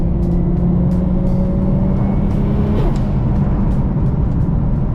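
Toyota Mark II JZX110 driving on a track and braking in a straight line, steady road and engine noise heard from inside the car, moderately loud and continuous.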